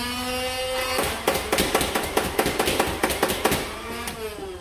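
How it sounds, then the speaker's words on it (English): A Nerf Rival Khaos blaster revving up, a rising motor whine followed by a rapid run of sharp mechanical clacks, loud and close, with no talking. "Let's go ahead and rev it up"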